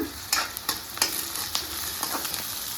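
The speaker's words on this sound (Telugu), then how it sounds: "కొద్దిసేపు మంచిగా ఫ్రై కావాలి" Green chillies sizzle and crackle in hot oil for chole masala, with a few louder stirring scrapes cutting through a steady close fry.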